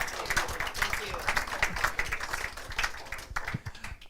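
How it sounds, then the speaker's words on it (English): Audience at an astronomy festival at an observatory gives a speaker a round of applause, steady crowd clapping that is moderately close and slowly tapers off. "We can give a round of applause to Tim."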